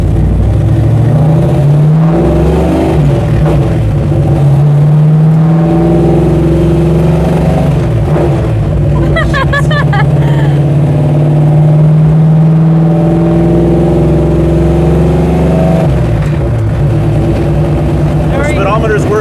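A 1968 Dodge Charger drives along with a loud, low engine drone that rises and falls with the throttle, heard from inside the car as people talk over it.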